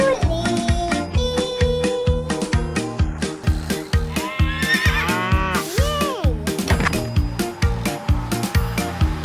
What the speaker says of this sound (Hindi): हिन हिन हिन हिन घोड़ा बोले